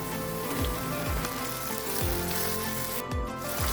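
Finely chopped tomatoes sizzling loudly in a hot pan, a continuous crackling hiss with small pops and no talking.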